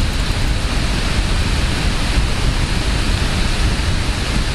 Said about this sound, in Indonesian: kipasnya ini berisik banget.